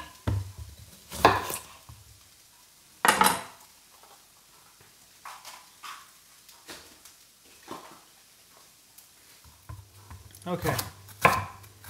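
A knife chops peppers on a cutting board in quick clusters separated by pauses, close by, with a brief spoken word.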